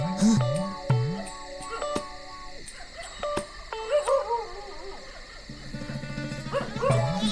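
A dog in a film comedy scene barks and whimpers in short yelps and whining cries over a backdrop of music and clock-like ticking.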